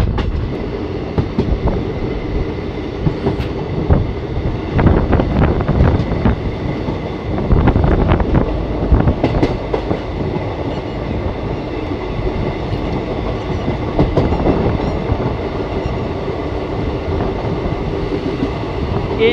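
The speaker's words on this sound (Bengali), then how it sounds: "জ্ঞানদাস কান্দ্রা স্টেশন থেকেও ট্রেন ছেড়ে বেরিয়ে যাচ্ছে।" A passenger train leaving Gyandas Kandra station rumbles loudly from on board, with clickety-clack wheel beats and scattered clunks over a steady roar, rising around the middle and continuing to the end.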